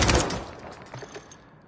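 A rapid burst of automatic gunfire from an unstocked rifle in the shooter game Warzone, loud at the start and then trailing off into a fading echo.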